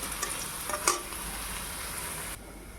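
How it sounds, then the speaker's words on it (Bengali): Potatoes fry in hot oil in a kadai like french fries, a steady close sizzle with a brief stirring clatter, fading softer toward the end. "আমি ফ্রেঞ্চ ফ্রাইয়ের মতো করে ভেজে দিতে হবে"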